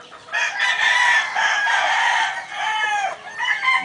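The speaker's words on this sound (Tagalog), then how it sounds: "Yung manok na yan." A rooster, a fighting stag, crows loudly and close by, one long drawn-out call followed by a shorter second crow, with no talking.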